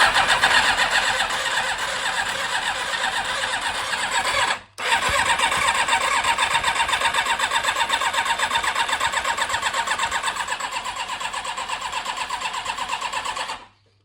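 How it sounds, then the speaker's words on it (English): A Yamaha YZF1000 Thunderace motorcycle engine cranks over at a steady, rapid rhythm, pauses briefly, then keeps spinning loudly and close for many seconds before stopping abruptly. No one speaks. "So that pump through, and we're just going to spin it over."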